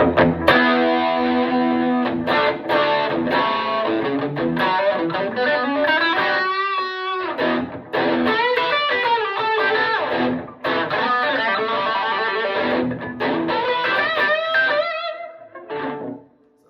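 An electric guitar with medium classic rock gain distortion plays chords and riffs with a little reverb, loud and alone, with a short bending lead phrase midway and ringing sustain at the end.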